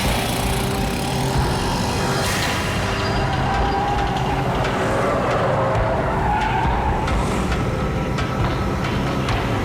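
A car arrives in an action movie scene, engine roaring loudly with tyre skidding and road rumble, a dense continuous burst of vehicle noise with no talk over it.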